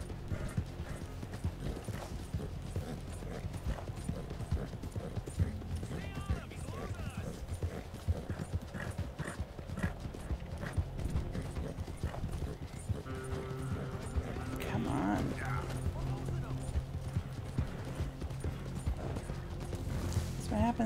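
Hooves of a horse galloping off the trail in Red Dead Redemption 2 clatter in a steady, continuous rhythm throughout, alongside game ambience and mechanical sounds, with a voice talking over parts of it.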